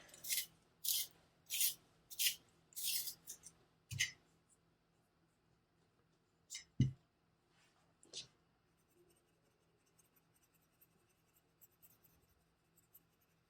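A bronze coloured pencil is sharpened in a series of quick, close, scratchy grinding strokes, followed by a few scattered taps and soft rustles as the work pauses.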